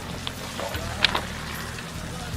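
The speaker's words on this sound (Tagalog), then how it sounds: "Ay, ang lakas-lakas pa rin ng ulan." Steady heavy rain as a radio drama sound effect, a constant wash of patter with a few faint drop hits, fairly quiet and heard alone.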